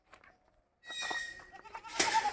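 Goats bleat in a rural goat and poultry shed, a few short, close calls that grow louder toward the end.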